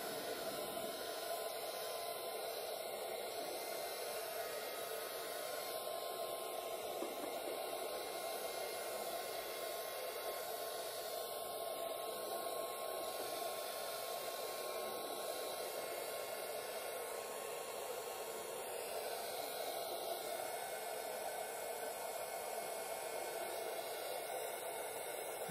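A hair dryer blows steadily to dry paint on an art collage, a loud, constant, even whoosh that runs through the whole stretch with no talking.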